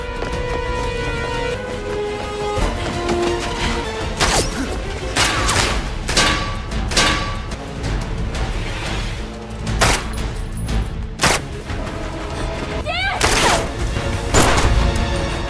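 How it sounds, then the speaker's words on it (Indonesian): Gunfire from an action film scene, with repeated sharp shots and crashes over a dense, loud backdrop of music and effects, blasts scattered throughout. "Setelah berhasil menembak jatuh satu anak buah Sean, Cole pun langsung mengejar Sean"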